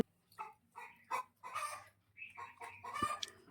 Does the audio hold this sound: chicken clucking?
yes